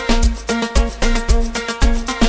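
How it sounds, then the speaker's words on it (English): Deep synth bass for a log drum house track, played on its own without the log drums, with punchy low notes that pulse in a steady repeating rhythm, loud and close. "if I just turn off the log drums and then I just play this bass on its own"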